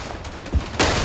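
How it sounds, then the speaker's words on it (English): Artillery booms thud in the World War I shooter Verdun, two muffled blasts in quick succession over a steady rumble of battlefield noise. "More artillery."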